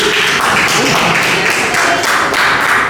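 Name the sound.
audience applause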